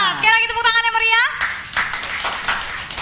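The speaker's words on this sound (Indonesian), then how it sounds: "Sekali lagi tepuk tangan yang meriah." Clapping from a TV show audience at a regional folk song event, starting after a spoken or sung introduction and continuing as a dense, steady patter of hands to the end.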